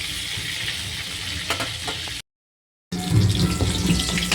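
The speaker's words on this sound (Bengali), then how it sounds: "আজকে করব কাতলা মাছের বড়ি দিয়ে ঝোল, তাই মাছগুলোকে আগে ভালো করে ভেজে নিচ্ছি।" Katla fish pieces frying in hot oil in a pan, a steady close sizzle broken by a brief silent gap, then louder crackling as it resumes.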